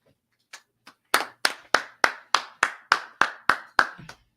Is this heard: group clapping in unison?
yes